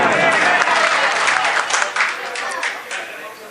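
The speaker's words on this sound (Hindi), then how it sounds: "तमाम जितने भी लोग बैठे हैं जोरदार तालियां बजाएं आप" Loud, dense applause from a large crowd, sustained for a few seconds with steady clapping that swells and dips slightly.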